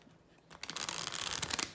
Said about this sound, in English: I'm just doing a corner riffle shuffle with this.